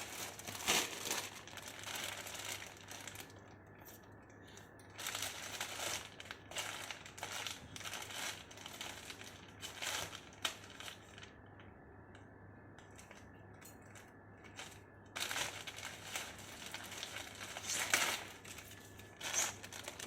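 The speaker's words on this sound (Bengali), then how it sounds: "আমি তাহলে আজকে এগুলো আনপ্যাক করব।" Crinkly plastic parcel packaging is handled and torn open during unpacking, producing close bursts of crackling and rustling separated by short quieter pauses, loud in clusters near the start and again toward the end.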